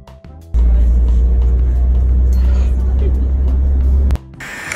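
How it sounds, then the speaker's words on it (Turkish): A city bus ride heard from inside, a loud steady low engine rumble and road drone running for a few seconds, starting and stopping abruptly, with no clear talk. "Ezgi Mola otobüse binmiş arkadaşlar."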